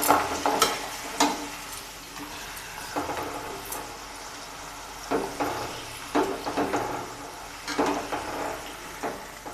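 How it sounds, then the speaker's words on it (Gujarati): Rava papad crackle and sizzle in hot oil in short, uneven bursts, with a steady low hiss between them, close up. "તેલ આપણું ગરમ થઈ ગયું છે તો આપણે પાપડને તળશું"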